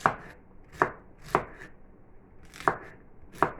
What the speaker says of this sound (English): let me show you how I'm going to cut my fennel right now